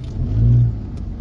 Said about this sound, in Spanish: Hablando de tráfico, este camión se me pasó por enfrente.